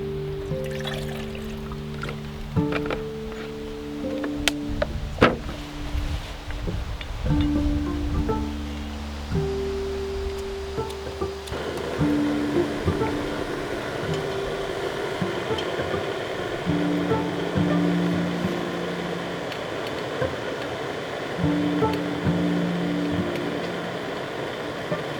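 Water heats to a boil for a Norwegian military ration pack, a steady hissing, rumbling roar that grows denser and bubblier over time. A low droning hum runs under it for the first half.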